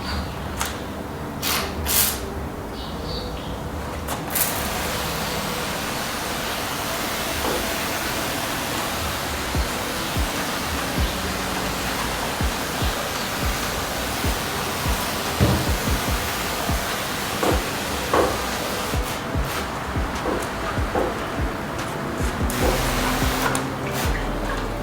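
Solar-powered sprayers jet water over a truck during a wash, a loud, steady broadband hiss that rushes on without a break and is joined by a few sharper spatters.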